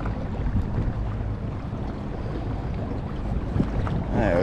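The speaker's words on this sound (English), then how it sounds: "Once again, the wind is being a pain in the ass." Wind blowing across Lake Murray while bass fishing from a boat in summer: a steady, close, rumbling buffet of wind over the microphone, with no talking.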